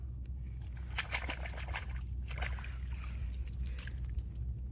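Water trickles and splashes as a freshly caught crab is rinsed by hand, with soft irregular dribbles and sloshes close by against a low background rumble.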